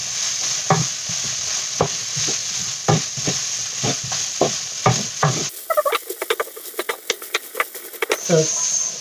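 Stir fry of pulled chicken and broccoli with soy and oyster sauce being mixed in a pan, a close run of sharp scraping and tapping strokes at an uneven rhythm over a steady sizzle, growing quicker and brighter toward the end.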